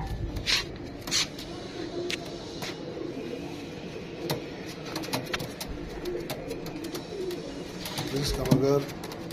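Prince Kamgar pigeons coo softly nearby while someone talks over them, with a few sharp clicks and light fluttering.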